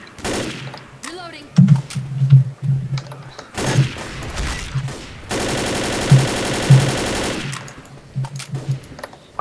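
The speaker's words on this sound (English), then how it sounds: "I've seen the bullets flying past them" Left 4 Dead firefight: bursts of automatic gunfire and scattered single shots crackle close by, with one long sustained volley in the middle, while players talk over the action.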